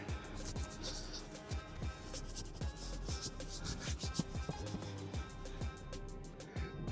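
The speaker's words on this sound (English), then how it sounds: "Let's give this a little scrub." Brush scrubbing an automotive car seat interior, a steady rapid rubbing and scratching with repeated strokes, close and continuous throughout with no talking.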